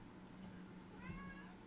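A cat gives a single soft meow, rising then falling, fairly faint over low steady room hum with no talking.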